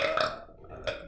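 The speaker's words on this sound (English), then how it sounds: "That was an entirely real burp." A single loud, drawn-out human burp, close to the microphone, with a rough throaty texture and a brief second gulp at the end.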